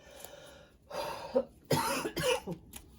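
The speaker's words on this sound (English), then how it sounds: "Oh, I'm going to cough." A few harsh coughs ring out close up, two to three bursts in quick succession, with brief pauses between them.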